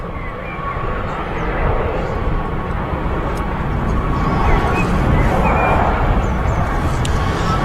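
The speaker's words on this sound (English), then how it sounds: "Also had a KLM Embraer touching down as well amidst all of that." A KLM Cityhopper Embraer jet landing on the runway at Manchester Airport, heard as a continuous loud low roar of engine and rumble that swells slightly and sustains throughout.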